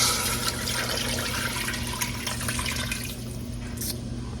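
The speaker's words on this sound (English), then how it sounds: "we add our water" Water pours steadily into a pot of beef shanks, a continuous splashing wash with no speech over it.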